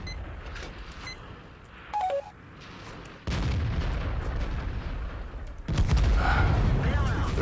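In a tank combat video game, heavy tank guns boom as loud, deep blasts with rumbling tails among game beeps and tones, under a noisy, crowded battle mix.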